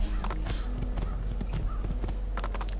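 Horses gallop in Assassin's Creed II, their hooves clip-clopping in a quick, steady patter that carries on throughout at moderate loudness.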